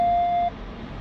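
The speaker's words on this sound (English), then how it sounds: "you hear all these beeps and it doesn't tell me what they are" A Lexus GX550 sounds a steady electronic warning tone that holds for about half a second and then cuts off, leaving a low cabin hum.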